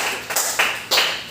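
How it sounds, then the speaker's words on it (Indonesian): Short burst of classroom clapping for a student, a few sharp uneven claps from a small group, close by and without talk. "tepuk tangan untuk Dewi karena ekspresinya"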